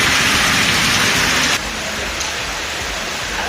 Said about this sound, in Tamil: மிதமான மழை பெய்தது.